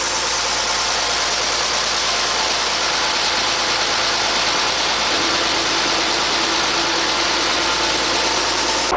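A Bucyrus Erie 10B dragshovel's machinery runs steadily with its main clutch engaged, a loud, unbroken mechanical drone with engine rumble that holds constant throughout, no voices.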